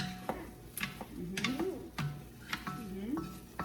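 Onion stir-fries with egg in a home pan for simple fried rice, a low sizzle broken by sharp, irregular spatula clinks and scrapes, with faint voices in the background.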